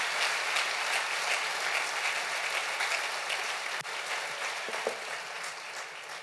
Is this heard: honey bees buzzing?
no